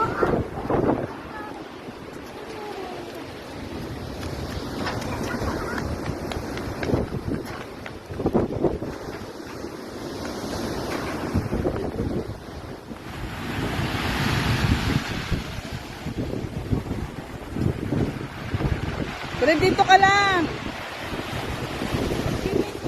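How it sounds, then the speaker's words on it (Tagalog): Strong surf at Santa, Ilocos Sur, crashes and rumbles with heavy wind buffeting the microphone, while people speak briefly over the roar of the waves. "Grabe yung alon, ang lakas."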